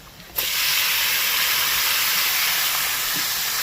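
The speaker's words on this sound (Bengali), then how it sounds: "এইবার ম্যারিনেট করা চিকেনটা দিয়ে দেবো ধরে ঢেলে দিই" Marinated chicken hits a hot pan after a brief quiet moment and bursts into a loud, steady hiss of sizzling that holds without a break to the end.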